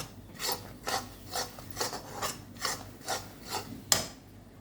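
Flour being mixed by hand for ariselu, a repeated soft rasping rub at a steady rhythm of about two strokes per second, close and quiet with no talk.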